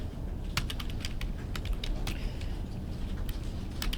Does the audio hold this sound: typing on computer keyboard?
yes